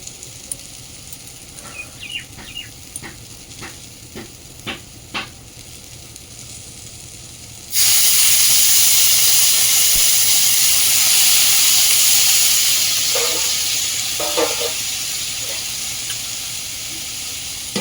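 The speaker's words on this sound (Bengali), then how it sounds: "ভাজাটা আমি বসিয়ে দিয়েছি।" Food hits a pan over a blazing wood-fired village stove, bursting into loud, continuous sizzling partway through after a run of sharp crackles and clicks, then slowly easing off.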